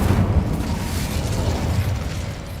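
A fire spell is cast in a Hogwarts Legacy game battle. A dense, steady roaring burst fills the whole moment, loud and close, with no voices.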